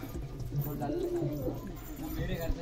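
Fancy and high flyer pigeons coo in a loft with low, rolling calls repeating steadily, while voices murmur in the background.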